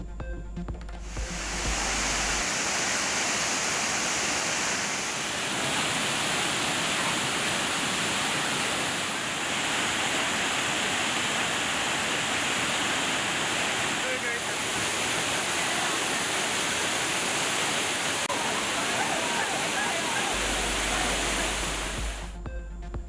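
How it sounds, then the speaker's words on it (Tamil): Water roaring down the Thirparappu waterfall in Kanniyakumari district, a loud, steady, broadband rush that never lets up, dense and close, with no other sound standing out. "கன்னியாகுமரி மாவட்டம் திருப்பரப்பு அருவியில் ஆர்ப்பரித்து கொட்டும் தண்ணீர்."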